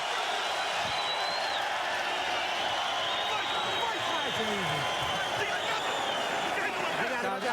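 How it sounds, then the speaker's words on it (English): A boxing arena crowd cheers and murmurs during a 1998 heavyweight bout, a broad continuous roar of voices with scattered shouts, while a commentator speaks over it. "The crowd erupts."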